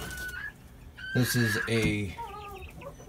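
A 10-month-old silver spangled Hamburg cockerel clucks and makes short throaty calls close by while someone talks over it.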